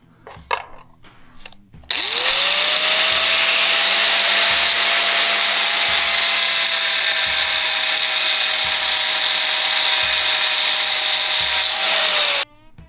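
A power drill bores into a metal axle shaft for about ten seconds, loud and close, with a constant whine, after brief handling clatter at the start.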